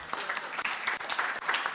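Audience at a policy event in Israel breaks into a dense, steady round of clapping that holds for the whole stretch, loud and close, with no voices over it.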